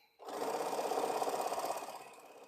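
A sewing machine stitches quilt strips for a jelly roll race, starting abruptly into a steady, close, fast-running whir that holds for about two seconds before slowing and fading.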